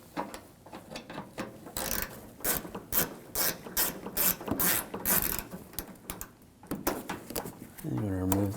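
A socket wrench with an 8mm socket ratchets out a bumper insert screw on a 2007-2013 BMW 328i, giving quick, close clicking bursts in rapid runs with short pauses between them.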